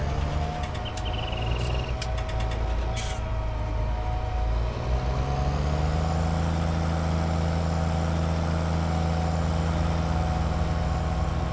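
Tractor engine in Farming Simulator 19 on the West Texas map, a loud steady low drone with harmonic hum that shifts to a deeper, fuller pitch midway, a few clicks early on, no voices.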